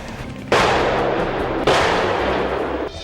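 Two heavy booming blasts from a self-propelled artillery gun during military exercises, about a second apart, each followed by a long rumbling decay; loud and fairly close.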